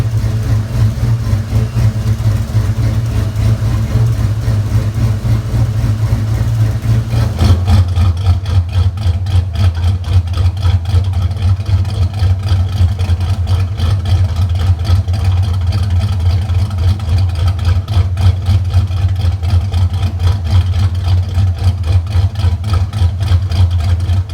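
An SN95 Ford Mustang with electric 76mm exhaust cutouts idles, a steady deep rumbling burble with a rapid lopey pulse that grows louder and fuller partway through, continuous and close with no talking.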